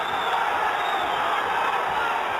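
A dense boxing crowd roars steadily after a knockdown, a loud sustained wall of cheering and shouting that fills the arena without a break.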